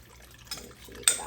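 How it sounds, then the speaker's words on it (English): Enchilada sauce mixed with water is poured into a pan, giving a soft liquid splash and light clinks of cookware that end in a sharper metallic clatter. "we took the enchilada sauce with a cup and a half of water. So now I'm just going to pour it in there"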